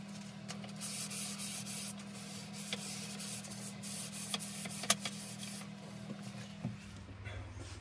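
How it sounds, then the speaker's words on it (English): Varnished wood is hand-sanded with 400 grit sandpaper in quick, soft, continuous rubbing strokes at close range, faint and fairly steady, with a few small knocks near the end. "I'm going to give it a wee sand with 400"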